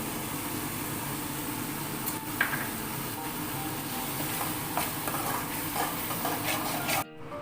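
Ground coconut and poppy seed paste frying in oil for egg gravy, a steady dense sizzle with occasional stirring scrapes that cuts off abruptly near the end.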